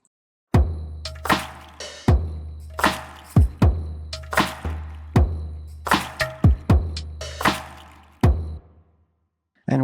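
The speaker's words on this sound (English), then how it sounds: "So all together the drum sounds like this." A medieval chillhop drum pattern plays on its own: deep kick thumps and crisp snare and clap hits repeat in a steady groove, with a brief gap before the loop restarts near the end.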